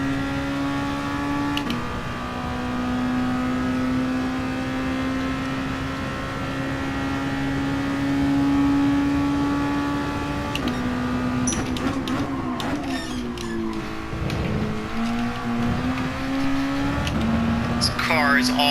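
A race car engine drones steadily around Monza in the GT Sport video game, its pitch rising and falling with shifts and braking into the chicanes, loud and continuous under a commentator's talk.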